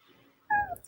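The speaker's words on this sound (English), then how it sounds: "Did I hear somebody's cat?" A house cat gives a single short meow indoors, clear and fairly close, rising out of near silence before a faint click at the end.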